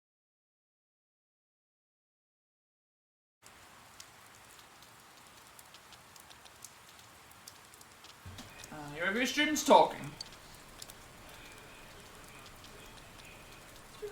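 Soft, steady rain ambience from the video game Persona 4 Golden starts after a few seconds of silence and hisses quietly in the background, with a voice speaking briefly over it partway through.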